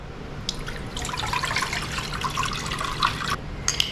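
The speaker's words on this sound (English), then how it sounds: "we're going to add about 3 cups of hot water." About three cups of hot water pour into a pot for a beef pot pie, giving a steady close splashing and trickling with brief gurgles throughout, no voices.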